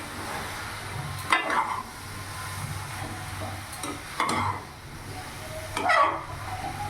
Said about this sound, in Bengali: এবার এরই মধ্যে ধুয়ে রাখা মাশরুম আমি দিয়ে দেবো। এবার ভালো করে আমি মিশিয়ে নেব।